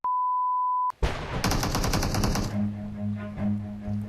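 After a steady electronic beep tone, video game gunfire bursts out as a fast, loud automatic volley lasting about a second, followed by lower rumbling game sounds and a few scattered shots.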